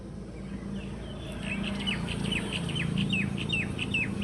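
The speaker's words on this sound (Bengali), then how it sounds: "উঠোনটা ঝাড়ু দেওয়ার পরে আমি মুরগিগুলো ছেড়ে নিচ্ছি।" Chickens let out into a swept rural courtyard, their bird calls rising in a steady string of short, repeated chirps and clucks over a low background hum, moderately near and gradually growing busier.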